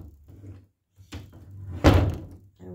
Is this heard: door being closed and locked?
yes